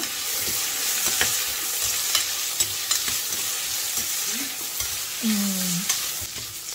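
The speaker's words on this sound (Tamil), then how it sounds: "அந்த சின்ன வெங்காயம் வதங்கிறது சூப்பரா இருக்குங்க" Small onions sautéing in oil in a pan for an aubergine curry, a steady close sizzle with occasional stirring scrapes and clinks, no voices.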